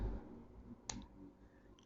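The pop-on brushed steel cap of a vintage Lamy 25P fountain pen clicks sharply once near the middle and again at the end, close and crisp against a quiet background.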